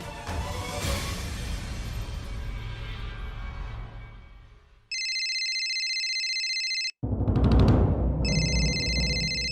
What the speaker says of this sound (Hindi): मंजी माँ का फोन